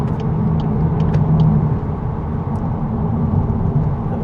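A 2026 VW Golf 8.5 GTI engine and exhaust hum steadily from inside the cabin while driving, a low constant rumble with faint clicks above it.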